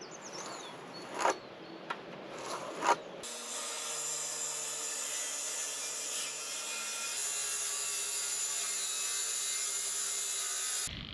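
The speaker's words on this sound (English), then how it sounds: "I did a little bit of sawing, cutting the counterpiece down to size" A wooden counter piece being sawn to size in a DIY tiny-house build in Portugal: a few short scraping strokes at first, then a long steady whine of continuous cutting, fairly quiet, with no voices.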